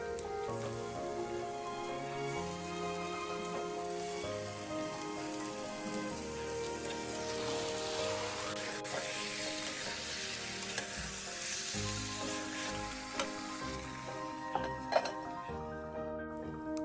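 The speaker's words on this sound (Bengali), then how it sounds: "মশলা কষানো হলে মাংসগুলি দিয়ে আবার ভালো করে মিশিয়ে নিয়ে ঢেকে দেব।" Chicken pieces cooking in sautéed spice masala for a shahi curry, a steady bright sizzle like light rain lasting through, with a musical background tone underneath and occasional stirring clicks near the end.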